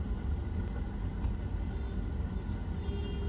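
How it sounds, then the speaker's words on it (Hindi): Daytime road traffic in Mumbai makes a steady, dense low rumble of engines and tyres, with faint passing whooshes. The noise holds an even level throughout and has no distinct horns. "यार, दिन में भी इतना ट्रैफिक रहता है बाबा"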